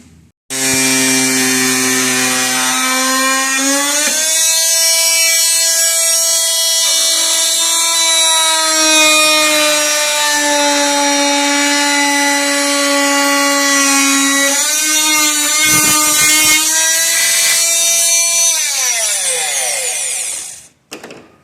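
A power tool cuts a hole through metal during an eBay turbo build, a loud, continuous high-pitched whine with shifting pitch that runs steadily for about twenty seconds, close and alone without talk.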